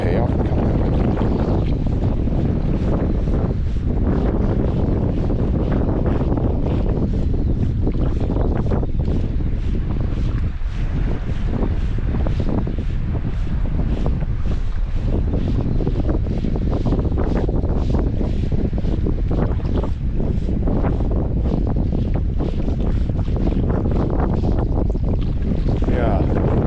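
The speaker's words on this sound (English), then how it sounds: "I've got this wind in the face." Strong wind buffets the microphone on a boat during saltwater bass fishing, a loud continuous roar with gusty rumbling throughout, and faint talk may sit beneath it.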